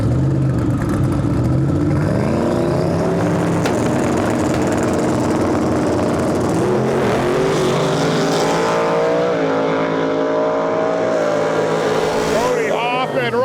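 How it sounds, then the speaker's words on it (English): A twin-turbo Ford F-150 drag races another truck on a small-tire drag strip, with loud sustained engine roar rising and shifting through gears, heard up close under an announcer's commentary. "This is going to be a drag race."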